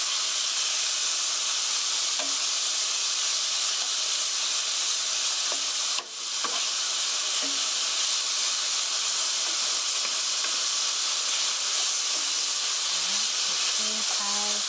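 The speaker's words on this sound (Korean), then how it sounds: "살살 볶아주세요. 마구 뒤져오면 팬에 고기가 다 눌러붙으니까" Meat stir-fried gently in a pan for japchae gives a steady, close sizzle and hiss throughout, with a few faint clicks from stirring.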